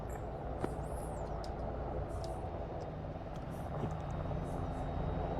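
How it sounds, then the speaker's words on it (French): Helicopter in the Arma 3 military game, a steady broadband rotor and engine drone holding loud and close throughout with no talk over it. "On fait un 360 à l'entour de l'hélico."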